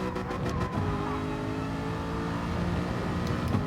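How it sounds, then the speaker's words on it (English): A car in the Gran Turismo 7 racing game brakes hard and turns into a corner, its engine note shifting steadily as the tyres scrub, loud and continuous with no voices. "We're going to ride up on this stripe again, smash the brake, turn in,"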